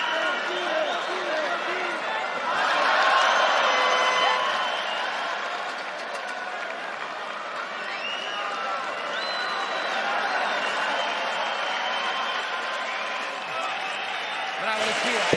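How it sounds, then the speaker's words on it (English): A UFC Fight Night arena crowd roars steadily in the distance during a bout, a continuous wash of cheering that swells briefly. Excited commentary and shouted voices sit on top of it almost throughout. "the crowd are getting behind it"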